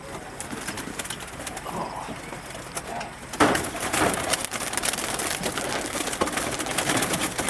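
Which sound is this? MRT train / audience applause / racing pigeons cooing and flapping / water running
racing pigeons cooing and flapping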